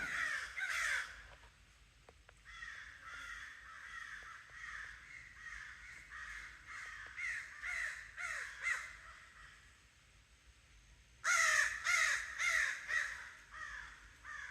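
Crows calling near a dry creek where an owl lives: repeated harsh caws in rhythmic bursts, moderately distant, with a louder flurry of caws near the end.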